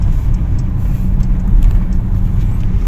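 Interior rumble of a BMW on the move, a steady low engine and road drone heard close from inside the cabin, with faint light clicks and no talking.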